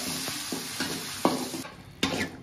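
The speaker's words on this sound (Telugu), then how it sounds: "ఈ విధంగా పేస్ట్ అంతా బాగా నీట్గా వేయించుకోవాలా" Garlic ginger paste frying in a pan for prawn curry, a soft sizzle punctuated by several distinct scraping stirs of a spatula, close and moderately loud, with no voices.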